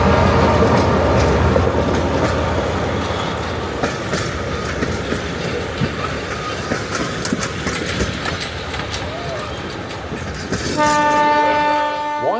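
A heritage train on Tasmania's Don River Railway near Coles Beach rumbles past with clattering wheels and broadband roar, then a loud sustained horn sounds near the end.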